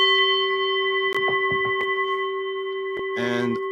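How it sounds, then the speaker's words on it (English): A bell rings with a sustained, heavily processed tone carrying echo and reverb, steady throughout with a few sharp clicks and a brief burst of noise near the end. "let me ring the bell"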